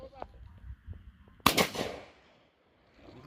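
A single sharp shotgun blast fired at birds during a hunt in the hills, cracking loudly and tailing off in an outdoor echo, with faint rustling and murmurs around it.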